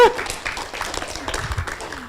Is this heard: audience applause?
yes